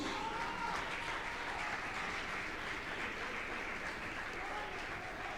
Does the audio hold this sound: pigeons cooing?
no